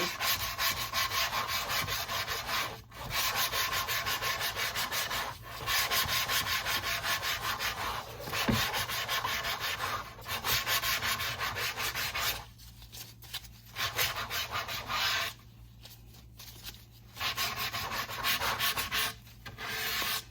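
Rhythmic rasping strokes of sandpaper rubbed back and forth on wood, close up, in long bursts separated by brief pauses.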